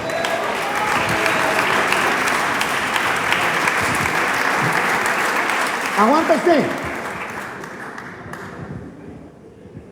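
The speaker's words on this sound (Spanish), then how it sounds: "¿Cuánto le dan palmas al Señor?" A church congregation claps for the Lord in a dense, sustained wash of applause lasting most of the stretch, with a voice speaking over it partway through before the clapping thins toward the end.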